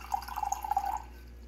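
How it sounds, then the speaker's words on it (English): ZeroWater filtered water poured from a 10-cup pitcher into a glass, a close, steady trickle about a second long that cuts off abruptly, leaving quiet. "So you pour some of the ZeroWater out into a glass."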